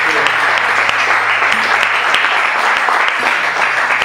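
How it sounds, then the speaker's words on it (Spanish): Dense, steady applause from an audience at a live Madrid open-mic event, loud and sustained for the whole stretch with no pauses. "Un gran aplauso."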